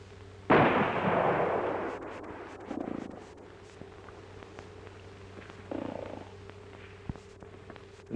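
A single sharp gunshot fired at a playing card held up as a target in a 1940s Western, a loud broadband blast that decays over about a second, followed by quieter scattered knocks and handling sounds.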